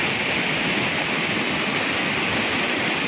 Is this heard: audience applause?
no